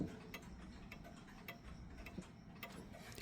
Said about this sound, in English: I'm going to be using my Yaosh dual chime as a demonstration for this video